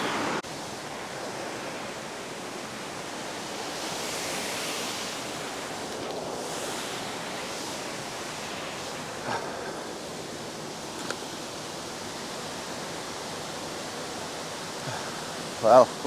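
A steady, loud wash of broadband roar from a waterfall fills the scene continuously, with a couple of brief knocks near the end.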